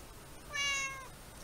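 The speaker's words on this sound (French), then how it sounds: "le chat des voisins qui vient me voir pour avoir des petits câlins" A neighbours' cat gives a single clear meow lasting about half a second, close by and fairly quiet, in an otherwise calm indoor setting.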